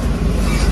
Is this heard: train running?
yes